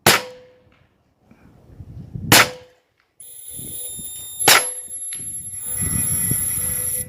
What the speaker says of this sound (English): Take a couple practice shots at a 3-inch target.